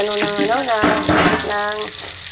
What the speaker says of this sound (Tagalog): Tayo po ngayon ay magigisa ng bawang.